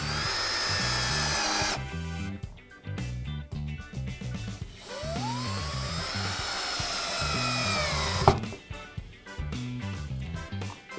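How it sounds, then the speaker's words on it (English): A power drill drives screws through metal pipe strap into a wooden board in repeated whirring bursts, pausing between screws, with a pitch-sliding whine near the middle. "Then screw some screws through the holes of the pipe strap into the board."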